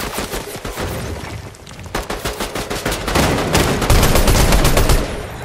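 Rapid bursts of gunfire from the Fortnite video game, sharp repeated shots rattling close and loud through the whole stretch, thickening into dense volleys toward the end.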